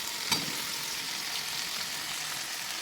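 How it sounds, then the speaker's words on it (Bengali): Spices fry in plenty of oil before meat is added, giving a faint, even sizzling hiss with one small pop near the start. "মশলাটা এখন ভাজা হয়ে গেছে, এর মধ্যে দিয়ে দেবো এবার মাংসটা"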